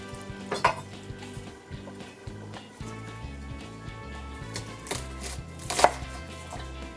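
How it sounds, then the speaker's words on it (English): A knife cuts a lemon on a board in a kitchen, with several sharp chopping knocks spaced irregularly among softer clinks of pots and utensils. "I just cut the lemon just like this"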